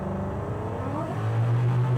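A supercharged 1968 Ford Mustang Fastback accelerates on an open road, its engine note rising into a deep sustained roar heard from inside the car.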